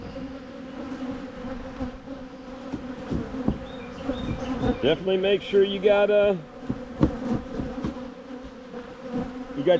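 Honey bees swarm and buzz in a dense, steady drone around an open beehive whose waxed-up frames are being worked, holding close and loud throughout while someone talks over the hum.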